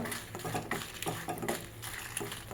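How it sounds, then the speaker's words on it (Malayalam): Chillies, including Kashmiri chilli, being stirred in a pan for a chutney, giving steady close scraping and clinking of a utensil against metal with a soft sizzling bed throughout, no voices. "നമ്മൾ നല്ല ഇളക്കി കൊടുക്കാം കേട്ടോ"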